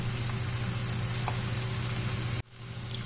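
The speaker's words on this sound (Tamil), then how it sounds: "நாங்கள் காமிச்சிருக்கிற மாதிரியே அதை எண்ணெயில் போடணும். நல்லா கிளறி விட்டு அதை ஃப்ரை பண்ணணும்." Onion pakoda frying in hot oil, a dense, steady bubbling sizzle up close that cuts out briefly and resumes slightly quieter.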